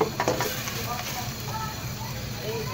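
Chana dal frying in a thick spice masala of turmeric, red chilli and green chilli, a close, steady sizzle with a few stirring scrapes early on and no talk.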